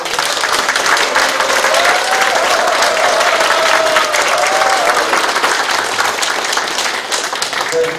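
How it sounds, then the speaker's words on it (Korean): An audience at a town meeting in Mogamyeon, Icheon claps in sustained, dense applause for the mayor and council members, loud and even for the whole stretch, with a faint voice briefly audible beneath. "큰 응원의 박수 부탁드립니다."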